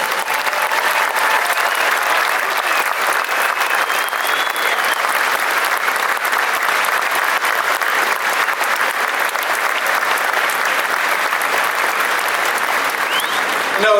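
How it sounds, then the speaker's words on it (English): Long, sustained crowd applause at a Detroit Tigers number retirement ceremony in a ballpark, a loud, unbroken roar of clapping from a large crowd holding steady throughout. "I would like all of you to give her a long applause."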